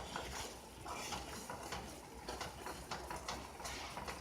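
An oxtail dish is being mixed in a pot on the stove, with faint repeated clinks and scrapes of a utensil against metal over a soft background hiss, quiet and close.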